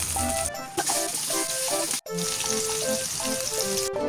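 Pork ribs frying in a pan until golden brown, a steady close sizzle and crackle running throughout with small pops and brief dips, no voices.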